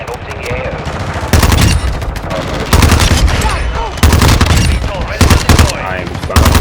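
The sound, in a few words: TR-76 Geist gunfire in video game Call of Duty Modern Warfare 2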